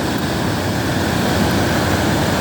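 Snowmelt water pours over a small dam by an old mill, a steady, dense, broadband rush that stays loud and unbroken throughout, with no voices.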